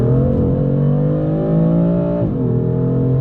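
A BMW E36 with a Guerrilla exhaust accelerates under load, a steady droning engine note rising smoothly, then dipping briefly as the driver shifts, heard from inside the car without talk.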